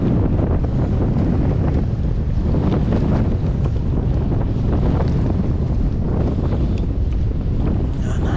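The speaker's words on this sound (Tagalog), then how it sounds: "Lakas ng hangin." Strong wind at sea batters the microphone with a continuous heavy roar, along with the rumble of a fishing boat and water, and no pauses throughout.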